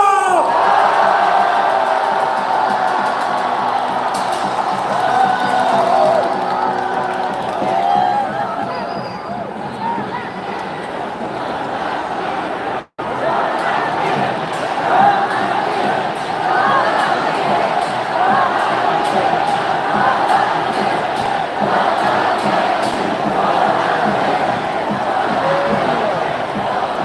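A large rally crowd in Gwangju cheers, shouts and applauds as a speaker arrives, a loud, sustained roar of voices and whoops mixed with clapping that continues unbroken for the whole stretch.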